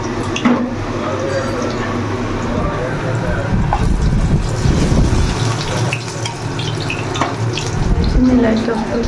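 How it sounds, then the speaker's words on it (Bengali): Potatoes fry in a pan with a steady, dense crackle throughout, and a voice murmurs faintly in the background. "আলুটা এদিকে ভাজতে দিয়ে দিচ্ছি।"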